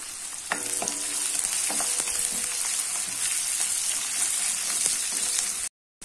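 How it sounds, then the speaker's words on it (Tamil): Crushed garlic cloves, five or six of them, tossed into a pan of softened onions for a mixed vegetable poricha kulambu, frying with a steady close sizzle and crackle and occasional stirring scrapes throughout, ending in a brief cut. "இப்போ நான் ஒரு 5-6 பல்லு பூண்டு தட்டி வச்சிருக்கேன், அதை போட்டுடலாம்."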